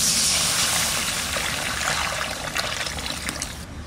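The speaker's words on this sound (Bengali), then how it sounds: "এবার আমি এর মধ্যে দিয়ে দেবো জল" Water poured into a cooking pot holding fried rice and pointed gourd, a steady trickling and splashing stream close by, heard alone without talk.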